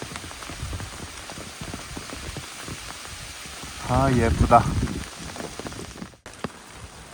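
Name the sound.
rain falling on leaves on a mountain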